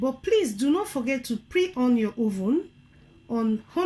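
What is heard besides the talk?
None of the usual background noises is heard.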